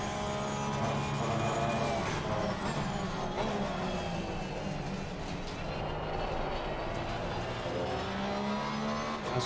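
A Porsche 911 engine roars at the Misano circuit, holding a loud continuous drone that rises and falls as the car accelerates and shifts.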